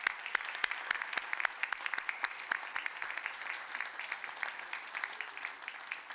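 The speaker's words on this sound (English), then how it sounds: "join me in a round of applause for them for helping you get here today" Graduates at a Victoria University graduation ceremony clapping for their family and friends: sparse, distinct individual claps over a softer bed of applause, fairly quiet and distant-sounding.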